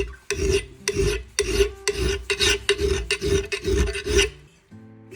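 A double bastard file rasps across a metal blade being sharpened, seven or eight steady strokes in a regular rhythm, close and loud, each stroke a rough scraping burst, ending with a brief pause.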